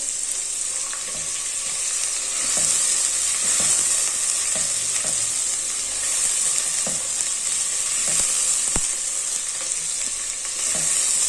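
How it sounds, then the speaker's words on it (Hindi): Steady sizzling of chicken frying in a pan with garam masala, garlic and ginger, with occasional scraping clicks from stirring, continuous and close, no talking. "गरम मसालों, लहसुन अदरक के साथ चिकन की भुनाई कर लेनी है।"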